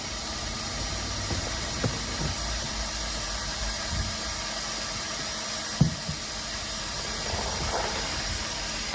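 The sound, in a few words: vacuum pump running on liner packer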